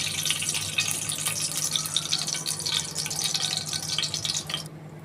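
Ghee pours into a pan while sweet pongal is being made, giving a continuous liquid trickle. It holds steady for about five seconds, then cuts off just before the end.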